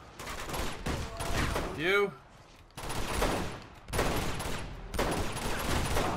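Rapid automatic gunfire in the video game Uncharted 2 comes in three loud sustained bursts separated by short gaps, with a voice heard amid the shooting.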